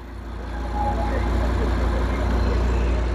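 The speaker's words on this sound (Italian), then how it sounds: "Vi faccio sentire pure il suono del motore, perché sta acceso il motore" Parked car with its engine running at a busy convention event, a steady low idling rumble that is fairly loud and continuous, with faint background crowd noise.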